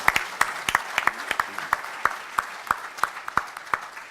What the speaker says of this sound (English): How about a big round of applause for Michael Deane?